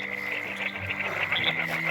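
Frogs croaking at night in the rain, a dense chorus of repeated rasping, cough-like calls close by over continuous background noise.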